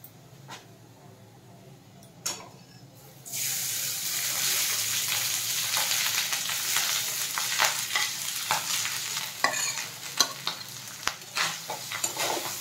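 Cooked rice tipped into a pan of oil with fried cashews and raisins for fried rice, starting after a few quiet seconds with a sudden burst of sizzling and then steady frying hiss punctuated by scraping stirs.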